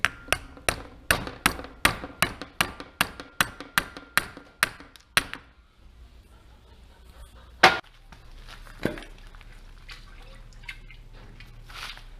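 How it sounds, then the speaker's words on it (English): A dozen or so sharp, evenly spaced taps drive a gas inlet tube back into its hose on a Yamaha Blaster ATV under repair for water in the engine, then stop, leaving a quiet hum and one louder knock. "So I pried the inlet tube for the gas out of the hose. And all I'm going to do is tap it back in."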